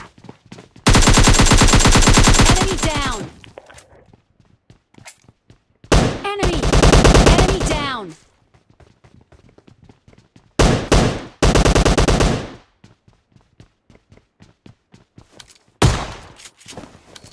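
Automatic gunfire from a shotgun and an AKM in the mobile shooter game PUBG Mobile Lite, loud sustained bursts of rapid shots in several separate volleys, each lasting one to two seconds, with quiet gaps and scattered footsteps between them.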